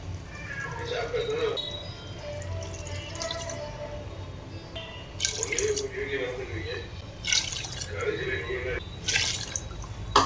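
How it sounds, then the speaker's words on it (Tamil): Water splashes and pours by the glass in short bursts into a rice pot, with quieter trickling between pours. "இந்த கப்லேயே நான் வந்து 5க்கு 10 கிளாஸ் தண்ணி ஊற்றிக்கிறேன்."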